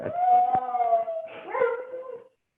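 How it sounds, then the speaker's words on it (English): A dog howls in long wavering tones close to the microphone, broken by a couple of sharp barks, for about two seconds before stopping abruptly. No one speaks over it. "sorry, my dog's going"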